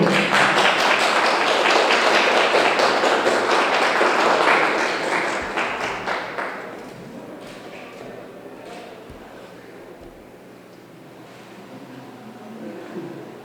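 Audience at a Mexico City public security forum applauds in a dense burst of clapping that fades after about six seconds, leaving scattered claps and room noise.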